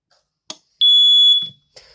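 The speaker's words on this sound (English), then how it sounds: "let's go ahead and beep the BRK with the test button" A BRK smoke alarm sounds one shrill, piercing electronic beep of about half a second when its test button is pressed, framed by faint clicks and handling noise in a quiet room.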